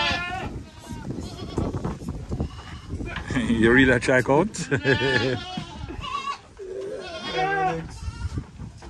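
Several goats bleat loudly and repeatedly, some close by, while people talk over the animals in the background.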